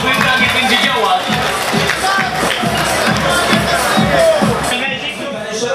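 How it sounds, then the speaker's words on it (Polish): Crowd at a family village festival in Syberia, Lubowidz, applauding a driver, with steady clapping and cheering mixed into loud crowd babble throughout. "Wielkie brawa proszę Państwa n a kierowcy, wielkie brawa"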